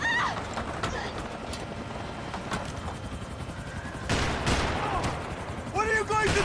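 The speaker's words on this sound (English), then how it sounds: "Max, shoot that bastard!" Gunfire in the video game Max Payne 3 comes as scattered sharp shots and bursts among game sounds and ambience, with voices from the game talking over them at times.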